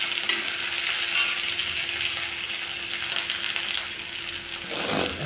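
Onions fry with chopped ginger in a continuous close sizzle, with a faint steady hum underneath and a brief stirring scrape near the end.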